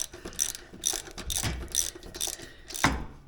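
Bolts on an aluminum throttle body adapter are tightened with a ratchet, giving about six quick bursts of clicking pawl sounds in close succession, near and clear, with no talk.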